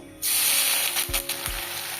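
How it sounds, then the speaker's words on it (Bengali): Onions dropped into hot mustard oil in a wok burst into a loud, sudden hiss that holds steady, with a couple of low thumps from the utensil as they settle. "কড়ার তেলটা গরম হয়ে গেছে এইবার পেঁয়াজের বেরেস্তাটা করার জন্য পেঁয়াজটাকে তেলের মধ্যে দিয়ে দিলাম"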